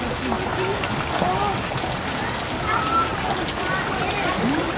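A little girl swims and splashes in a hot springs pool, making a continuous wash of water sound close by, with voices talking over it.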